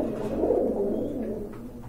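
Pigeons kept in a breeder's collection coo softly in low, throaty, rolling tones, a quiet and close-sounding call with no talking.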